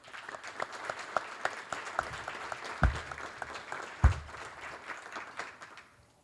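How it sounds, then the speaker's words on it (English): Steady applause from a breakfast event audience, moderately distant, with a few louder individual claps standing out, continuing for several seconds. "let's give them a round of applause."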